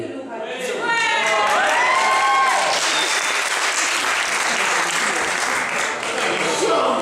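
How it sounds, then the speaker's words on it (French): Wedding guests at a French reception burst into applause and cheering, with a few whoops and voices calling out at the start before the clapping settles into a dense, steady roar. "on peut l'applaudir encore une fois"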